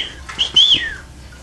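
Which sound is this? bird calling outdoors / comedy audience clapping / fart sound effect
bird calling outdoors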